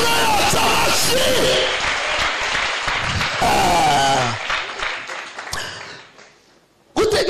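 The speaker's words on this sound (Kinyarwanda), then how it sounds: "Dukomere Imana yacu amashyi" A church congregation bursts into loud applause with cheers and shouts, the clapping swelling and then tapering off toward the end, with voices mixed in.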